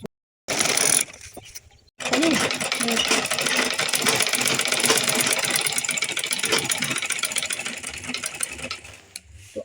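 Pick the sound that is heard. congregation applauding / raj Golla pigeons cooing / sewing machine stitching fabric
sewing machine stitching fabric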